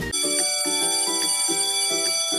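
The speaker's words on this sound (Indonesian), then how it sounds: "bunyi bel menandakan jam istirahat sekolah. Bunyinya terdengar nyaring di telinga." An electric school bell rings loudly and continuously to mark recess, a bright metallic tone pulsing in rapid repeated strokes for the whole stretch with no talking.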